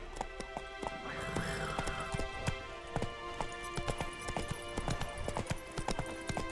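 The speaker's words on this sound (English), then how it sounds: "Whoa there, Roach" A horse's hooves clip-clop steadily along in The Witcher 3 video game. The irregular, close hoofbeats sound over a constant tonal music and ambience bed, with a faint whinny.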